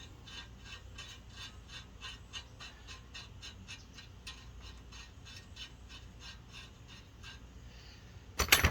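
Socket wrench ratcheting on a ball joint nut of a 2004 Dodge Ram 1500, a fast, regular series of close metallic clicks for about eight seconds, ending in a brief louder clatter.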